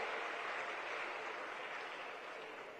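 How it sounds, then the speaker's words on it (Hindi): Applause for the Chief Minister at an Olympic Day 2025 sports celebration in Uttarakhand: a dense, steady crowd clapping that stays loud and sustained throughout, fading only slightly toward the end. "जोरदार तालियों से माननीय मुख्यमंत्री जी का अभिनंदन"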